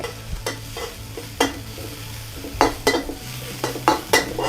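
Garlic and pork stir-fried in a pan for a Thai glass noodle salad, a steady sizzle broken by repeated sharp scrapes and clinks of a utensil against the pan in an uneven rhythm.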